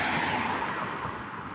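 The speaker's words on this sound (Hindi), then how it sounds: "ये रॉन्ग साइड आ रही है गाड़ी भाई।" An electric car drives past on the wrong side of an unlit, deserted road at night, giving a steady broadband road and tire rush that slowly fades as it goes by, with no other sounds over it.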